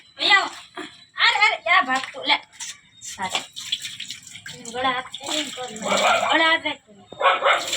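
Small dogs bark in short bursts while being bathed and given water at a home doorstep, mixed with close talking and splashing water.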